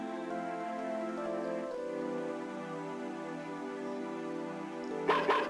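Boney the dog from the video game Mother 3 gives a short, sharp bark-like burst near the end, sounding over sustained in-game synthesized music that plays continuously beforehand.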